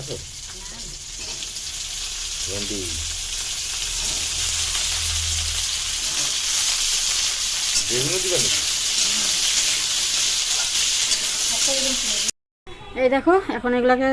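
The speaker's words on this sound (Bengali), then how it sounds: "একটু জিরে ফোড়ন দিলাম" Cumin seeds crackle and sizzle in hot oil for tempering, a steady bright hiss filling the whole stretch with faint clinks, while people talk intermittently underneath and a brief gap interrupts near the end.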